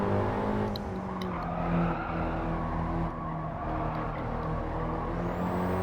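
Alpine A110 sports car driven hard on a track, engine note rising and falling through gears with tyre squeal, loud and close from inside the car, no talk.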